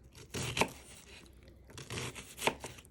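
A knife mincing onion on a cutting board, with two clusters of quick chops about two seconds apart and a soft scraping and rustling between them, close and fairly quiet.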